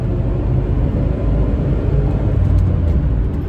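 A Buick Reatta from the 1980s with a 165-horsepower engine accelerating at full throttle, giving a steady, loud low engine drone with road rumble from inside the cabin and no voices.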